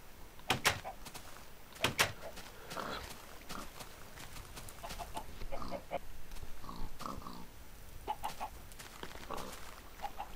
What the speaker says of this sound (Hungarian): Hallottam én, hogy refögnek a malacok